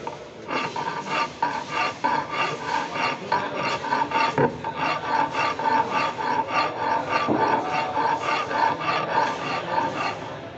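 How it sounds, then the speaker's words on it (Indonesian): A hand file rasps across a workpiece during bench work, with steady back-and-forth strokes in an even rhythm, close and moderately loud, with no voices. "Kemudian kita kikir."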